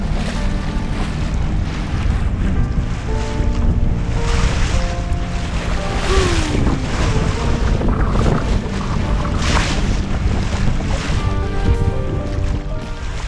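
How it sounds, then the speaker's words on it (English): Wind and building waves rush steadily past a solo sailboat crossing Lake Ontario between Whitby, Ontario and Wilson, New York, with loud, continuous gusting and splashing water throughout. "Waves are starting to build a little bit because the wind is picking up"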